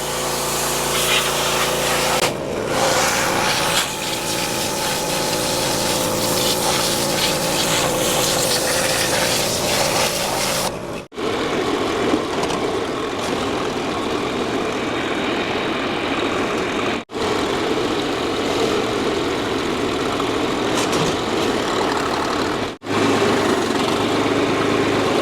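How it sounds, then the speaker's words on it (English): A pressure washer blasts the side of a big-rig truck transmission in a Cummins-swapped build, a loud, steady engine-driven drone with hissing spray that cuts out briefly a few times. "We're going to pressure wash the side of this transmission real quick"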